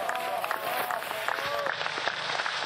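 Spectators at a men's biathlon relay World Championship race clap and cheer from the stands, a steady crowd din with scattered shouts, while a commentator talks over it.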